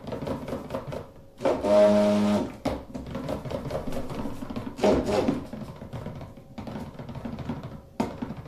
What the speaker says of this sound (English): we can use our stick blender to thicken it a little bit quicker